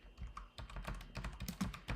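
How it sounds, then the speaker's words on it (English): Rapid typing on a computer keyboard, a quick uneven patter of close key clicks. "I'm using the keyboard"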